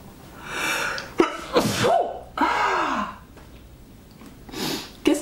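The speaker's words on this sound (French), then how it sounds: "Je vais éternuer." A person sneezes nearby while knitting indoors, with sharp inhaled gasps followed by a couple of loud, abrupt sneeze bursts and a final snort, no talking.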